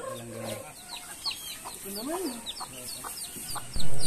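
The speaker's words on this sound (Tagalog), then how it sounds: "ito po yung mga alaga naming manok dito" Chickens kept on a family farm in Batangas cluck and call in short bursts, with one clearer rising call mid-clip and softer farmyard clucking around it, fairly near, ending with a louder bump.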